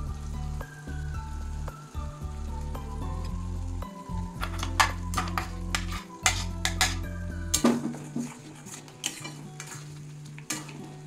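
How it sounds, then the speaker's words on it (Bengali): Ground spinach going into spiced oil in a pan, with a steady hum at first, then a burst of sizzling and crackling plus spoon-against-pan clatter as the paste is stirred in. "এবার আমি বেটে রাখা এটা দিয়ে দেবো, পালং শাকটা দিয়ে দেবো।"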